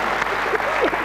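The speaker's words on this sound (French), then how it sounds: "Voilà, allez, on l'applaudit." Studio audience applause on a 1995 French television game show, a brief burst of clapping with a voice briefly audible over it.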